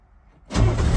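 A car nicknamed as a favorite, long parked in a garage, cranks and fires up: near-silence, then at the halfway point the engine catches and settles into a loud, steady running roar.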